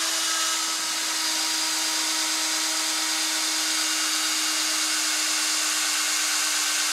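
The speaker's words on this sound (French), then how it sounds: "Faites des trous de 8." A drill bores 8 mm holes in a wheel for a puncture-proof wheelbarrow or mower tire, producing a loud, continuous high-pitched whine that holds steady throughout without any talk.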